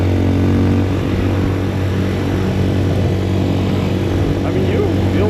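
A Papio SS mini motorcycle is ridden with a continuous mid-pitched engine drone and wind rush, loud and constant throughout, with a voice faintly underneath.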